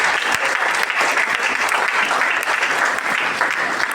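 A church congregation claps steadily and loudly, a dense, continuous wash of applause from many hands filling the room throughout.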